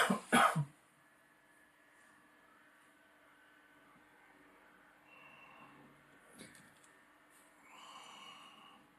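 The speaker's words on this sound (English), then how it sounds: "the coughing you can hear in the background is my wife" A short burst of two or three coughs at the start, then quiet room noise with faint, distant shuffling and murmurs.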